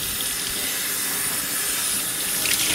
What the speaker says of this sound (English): I am going to squeeze out the water and do it again until the water runs clear